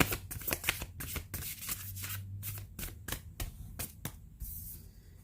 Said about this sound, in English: I'm going to be taking the cards that fell out onto the table